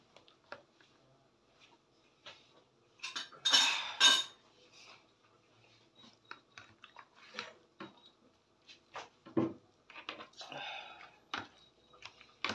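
Eggplant salad being tossed with chopped onion and tomato, giving scattered soft clinks of a utensil against a bowl and wet squishing, with louder bursts around the middle and near the end.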